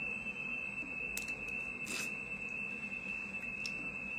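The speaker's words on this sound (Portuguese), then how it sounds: "o alarme do prédio também começou a disparar, tomara que não seja fogo." An apartment building alarm sounds as a continuous high-pitched electronic tone, steady and somewhat faint, heard indoors with a few brief clicks and rustles over it.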